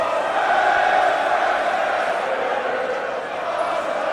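A large English wrestling crowd roars and chants in support of Will Ospreay during a match against Rey Mysterio, a loud, sustained, dense wall of crowd noise with no break.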